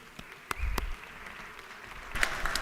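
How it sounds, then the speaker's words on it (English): Scattered, fairly faint clapping rises in a state legislative chamber to honor Grayson High School's state-champion basketball team, with a few sharp individual claps standing out. "Let's give them a big round of applause for that"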